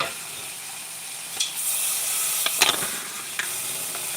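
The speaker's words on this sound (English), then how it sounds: "I'm going to put some butter down, because I already got my fire on." Butter melts and sizzles in a hot pan on a stove while breakfast of grits, eggs and sausage patties is cooked, a steady close hiss with a few brief pops and clatters.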